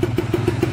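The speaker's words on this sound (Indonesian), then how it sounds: "Jadi motor juga digas agak geter." A Kawasaki Ninja RR engine with a worn, scratched cylinder block sits at idle, close and loud, giving a quick run of low, evenly spaced pulses with a rough, rattly edge.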